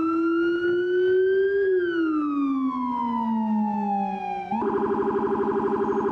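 A police vehicle's rumbler siren in the Emergency video game wails in one long slow sweep up and down, then switches to a rapid pulsing tone. It is loud and close, with no talk.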